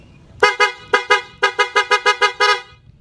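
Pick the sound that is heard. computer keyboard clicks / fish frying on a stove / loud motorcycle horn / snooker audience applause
loud motorcycle horn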